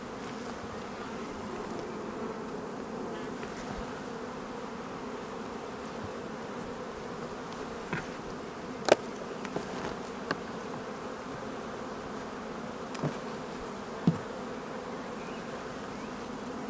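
Caucasian honey bees buzz at their hive in spring, a steady dense drone that holds throughout, with a few faint clicks and knocks and no talk.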